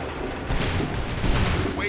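A musket volley in Assassin's Creed III crackles as dense, continuous gunfire, loud and close, with overlapping shots and heavy booms throughout.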